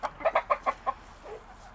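Backyard chickens kept on fresh grass give a quick run of about six soft clucks, fairly faint, then fall quiet.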